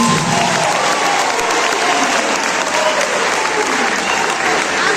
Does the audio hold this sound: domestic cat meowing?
no